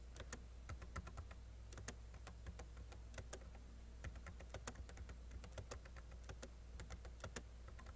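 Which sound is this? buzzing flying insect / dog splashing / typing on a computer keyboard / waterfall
typing on a computer keyboard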